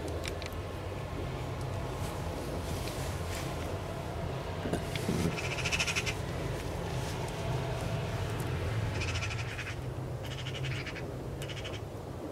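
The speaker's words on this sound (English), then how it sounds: "Looks like the magpies are making another visit." Magpies call in short bursts on open farmland used for sheep and cattle, heard against a steady wash of wind or outdoor noise, with clusters of calls partway through and toward the end.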